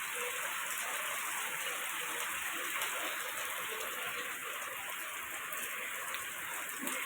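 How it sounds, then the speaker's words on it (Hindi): Steady rain falls on a residential lane in Rajiv Colony, India, a dense, even hiss of drops hitting surfaces that continues unbroken and fairly close throughout, with no voices. "आ चुकी है राजीव कॉलोनी में बारिश।"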